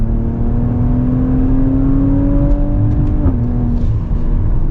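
A 2020 Maserati Levante GranLusso engine pulls up through its revs with a smooth rising tone, then drops as the transmission shifts, heard close from inside the SUV.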